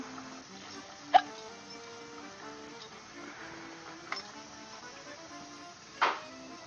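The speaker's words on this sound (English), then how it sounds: "I have hiccups." Three sharp, isolated hiccups from a woman during a home baking stream, spaced a few seconds apart over soft background music, each a brief sudden catch.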